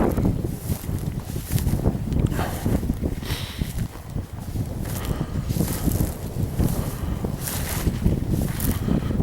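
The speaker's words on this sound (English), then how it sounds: "So you might not hear me with the wind now" Strong wind buffeting on an open heather hillside, a loud, continuous roar with gusty swells and rumbling microphone buffeting throughout, heard alone.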